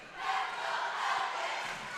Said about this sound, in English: Falcon crowd now making some noise.